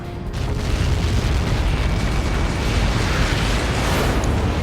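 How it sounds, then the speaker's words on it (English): A massive explosion in the air-combat video game Ace Combat 7 rumbles as a sustained, loud, deep roar that barely fades across several seconds, with no talking. "How many got caught in that explosion?"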